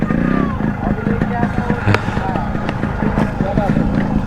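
A GT 650 motorcycle passes close by on an Indian road, heard from a moving motorbike through a steady engine drone and wind rush, with someone talking over it.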